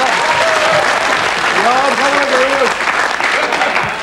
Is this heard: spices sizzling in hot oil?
no